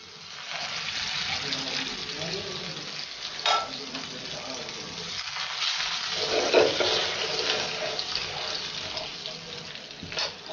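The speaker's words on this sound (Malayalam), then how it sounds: "അപ്പോൾ നമ്മൾ പാത്രം ചൂടായിട്ടുണ്ട്, അതിലേക്ക് നമുക്ക് ബട്ടർ ഇടാം 2 ടേബിൾ സ്പൂൺ" Two tablespoons of butter melt in a preheated pan for an eggless Oreo pudding, giving a soft, steady sizzle throughout, broken by a few light clinks and stirring sounds.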